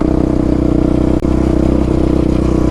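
A steady, loud Yamaha Raptor 700 ATV engine with a Dasa pipe droning at constant high revs in high gear with a dense harmonic buzz, one brief dip partway through, then continuing unchanged.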